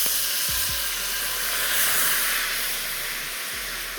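Sake hitting a hot pan to deglaze it for chicken piccata gives off a loud, steady steam hiss that fills the whole moment without letting up, with no talking over it.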